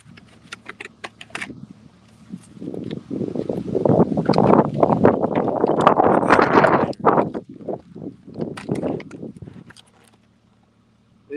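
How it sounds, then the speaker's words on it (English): Strong wind out on a big lake while fishing from a 2023 Skeeter boat, gusting hard against the microphone in swelling rough bursts that build, peak and die away to near quiet. "It's so windy out on the main lake."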